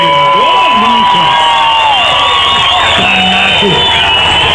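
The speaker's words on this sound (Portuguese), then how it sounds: "Bastante aplaudido aqui." Crowd at a celebrity kart racing event applauding and cheering a driver, a dense continuous roar of claps and shouts with whoops rising over it, loud and close, with voices calling out through the noise.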